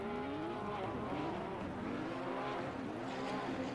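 A Porsche Cup race car doing victory donuts at Misano, its engine revving steadily with tyre scrub beneath, heard at a constant moderate level.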